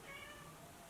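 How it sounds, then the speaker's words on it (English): A cat meows once, close by, over a steady hiss of background noise. "That is my cat."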